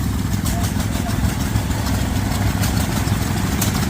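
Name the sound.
old McCormick stationary engine running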